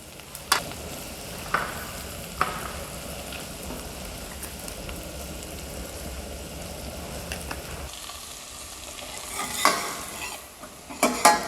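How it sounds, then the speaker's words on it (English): Garlic sautéing in a pan with bay leaf, peppercorns and thyme while making a French mother sauce, a soft steady sizzle under a few sharp clinks and stirring scrapes, growing louder near the end. "some garlic, saute it, add some bay leaf,"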